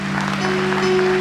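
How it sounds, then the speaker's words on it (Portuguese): Church congregation applauding together, a dense steady wash of clapping that fills the space, with a sustained organ or keyboard tone held underneath. "Irmãos, o nosso Jesus, ele merece uma salva de palmas bem forte."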